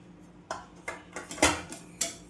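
Barnyard millet (bhagar) dry-roasting in a pan over medium gas, heard as about five sharp metallic clinks and scrapes of a spatula against the pan, spaced irregularly and close by, with quiet moments in between.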